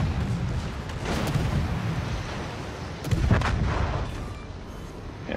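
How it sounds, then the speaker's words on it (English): Warship guns firing at point blank range in a naval video game, booming artillery blasts layered over a rumbling roar, with a louder report partway through. "finishes up Vladivostok at point blank range with guns"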